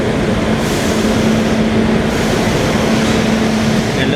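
The Narasapur–Tirupati weekly express, train 17428, at Nellore railway station, giving a loud, steady rumble with a faint sustained hum and no voices.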